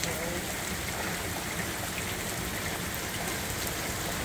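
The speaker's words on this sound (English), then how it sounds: "So it's just raining now" Steady rain patters and hisses continuously in Van Nuys, California, a dense, even wash of drops close by with no pauses.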